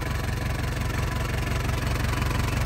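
A 2008 Hyundai Porter diesel truck idling with a loose exhaust bolt, giving a steady, close rhythmic diesel clatter and buzzing rattle that stays even throughout, with no talk.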